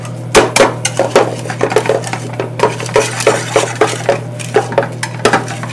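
Utensil scraping and clinking in a bowl while mixing a traditional Turkish eggplant dish, a steady run of sharp rhythmic clatters over a constant low hum, close and loud with no talk.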